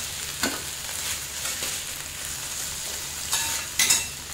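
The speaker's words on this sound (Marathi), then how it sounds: "आता इथे आपला गवार बटाटा 1 मिनिटभर परतून झालेला आहे बघा छानपैकी।" Cluster beans and potato pieces sizzle steadily as they are stir-fried in a hot pan. A few sharp scrapes and stirs stand out over the constant frying hiss, close up, with no voices.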